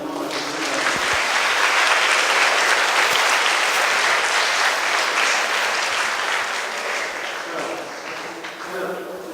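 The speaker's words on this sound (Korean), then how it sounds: "큰 박수로 다시 한번 맞추겠습니다" An audience claps in sustained, dense applause at a school lecture held at Jemulpo High School, staying loud and even for several seconds before thinning slightly near the end.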